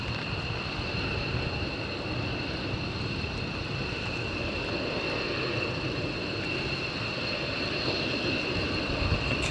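Two F-35 fighter jets flying, a steady broadband rumble with sustained high tonal whines, moderately distant and unchanging throughout, no voices.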